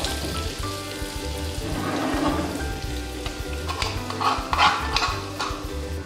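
Garlic frying in margarine in a pan, a continuous soft sizzle with low stirring noise and a few brighter crackles near the end, close and alone.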